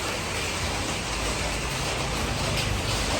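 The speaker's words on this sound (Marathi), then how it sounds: "पाऊस एवढा पडतोय" Steady, dense rain hiss fills the whole stretch, broadband and constant with a low rumbling undertone, no voices.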